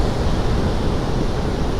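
Surf at Madasari beach in Pangandaran, a steady broadband roar of strong ocean waves mixed with wind, continuous and loud with no distinct breaks across the moment.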